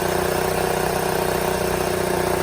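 A marine Onan generator engine runs steadily after warming up, a close, continuous idle hum with an even mechanical throb and no hunting or surging.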